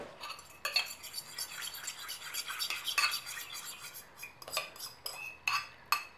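Milk and egg mixture being stirred into flour in a bowl for steamed pandan rice cakes, with a utensil scraping and clinking against the bowl in steady, close, fairly loud strokes.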